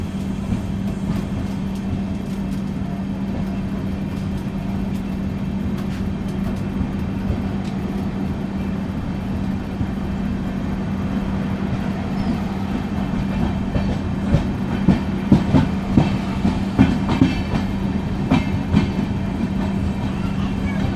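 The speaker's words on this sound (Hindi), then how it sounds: "हमारी ट्रेन ने यहाँ से अपना डिपार्चर ले लिया है" Ramnagar Dehradun Express train departing and running on its inaugural journey, a steady rumble and drone of the moving train throughout, with occasional rail clatter and knocks growing slightly toward the end, heard from on board.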